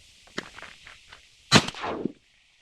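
A single shotgun blast fired at ducks on a tiny pond in Alaska during extreme winds, loud and close with a brief rumbling tail, following a stretch of quieter wind noise.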